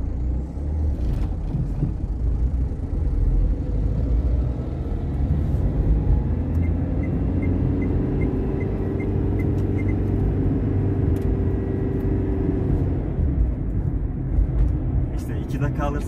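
Renault Symbol with a turbo engine, driven on a rough road, gives a steady loud rumble with road and cabin noise and a faint rising-then-falling engine tone in the middle, running throughout.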